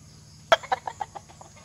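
Backyard fighting gamecocks cluck in a quick descending series of about eight notes, one sharp call followed by softer clucks, close and clear over a steady low hum, as the damp birds preen after rain.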